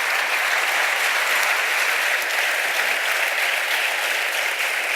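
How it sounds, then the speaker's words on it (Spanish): Dense, steady applause from a conference audience at an economics round-table session, a continuous even patter of many hands filling the room without pause. "Un aplauso, por favor."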